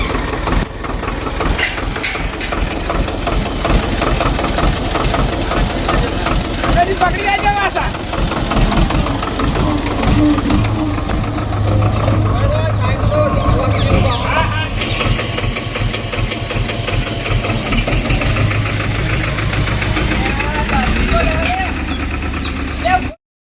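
A tractor engine idles loudly and steadily throughout, a continuous mid-pitched rumble with people talking over it.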